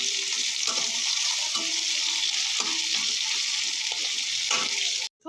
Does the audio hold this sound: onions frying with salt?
yes